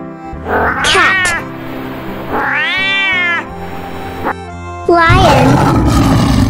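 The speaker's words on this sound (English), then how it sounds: "Cat." A cat gives three loud, drawn-out meows spaced across several seconds, close and clear, the last one harsher like a caterwaul, over a steady background hum.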